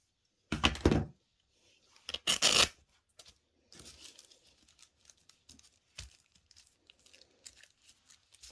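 A fabric background being trimmed to size for a tea cup pocket craft: two loud bursts of cutting and rustling, then softer intermittent snips, crinkles and light taps at close range.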